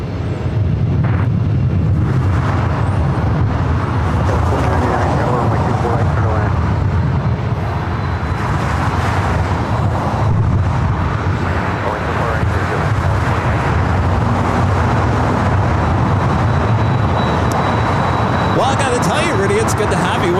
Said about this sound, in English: we got the 767-300ER heading to JFK, now heading up to 24 left here on the north side